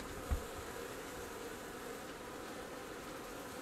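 Honey bees swarm around an April beehive in a steady, continuous buzzing hum, moderately close and even throughout, with one faint low thump near the start.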